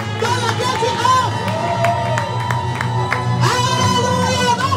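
Church congregation cheering and shouting together, a loud sustained crowd roar with whoops and scattered clapping, while a voice calls out over it.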